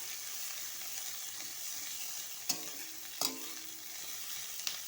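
Chopped onions fry in a pan for a katla fish curry, a steady loud sizzle with a few sharp clicks of stirring.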